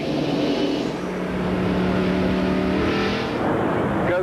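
NASCAR Winston Cup stock cars roar as they accelerate at a race restart in Atlanta, a loud continuous engine drone with rising revs and passing cars, while a commentator talks over it.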